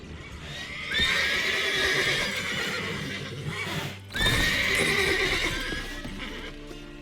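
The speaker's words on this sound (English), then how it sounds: "Gotta calm all the horses before they wake the guards." Horses in The Witcher 3: Wild Hunt give two long, loud whinnies, separated by a brief pause, over faint hoof clopping and shuffling nearby.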